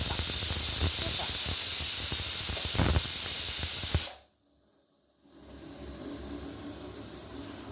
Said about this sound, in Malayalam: കുക്കർ അടിച്ചു തുടങ്ങിയിട്ടുണ്ട്.